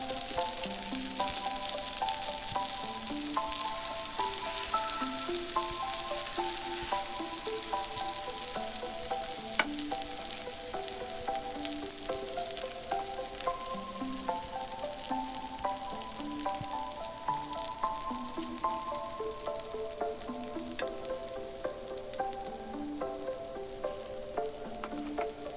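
Kebab meat and asparagus fry in a pan with a constant close sizzle and crackle, joined by occasional scrapes and soft clinks of stirring, with no voices throughout.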